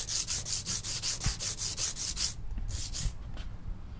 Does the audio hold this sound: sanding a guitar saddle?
yes